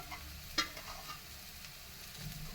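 A spoon stirs a potato filling for bread pakoda in a pan, a soft sizzle running underneath with one sharp scrape of metal, quiet and close with no voice.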